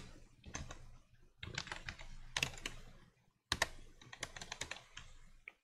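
Someone types a password on a computer keyboard, with quiet clusters of quick key clicks split by short pauses, close and faint, and no voices.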